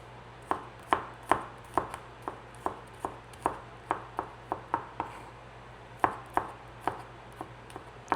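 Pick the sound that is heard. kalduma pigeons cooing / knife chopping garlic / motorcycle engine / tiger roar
knife chopping garlic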